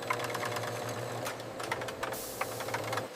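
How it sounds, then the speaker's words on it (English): A high-speed aluminum can decorator prints six colors onto each can in a single rotation, giving off a dense, continuous mechanical clatter with a fast, rapid ticking rhythm and a low steady hum beneath, close and sustained throughout. "The decorator. The fastest printing process in the manufacturing world."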